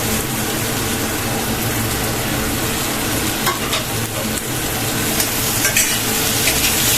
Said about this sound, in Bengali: এগুলো সব ভাজবো। এই মশলার জলটা দিয়েছি না, ওটার সঙ্গে ভাজবো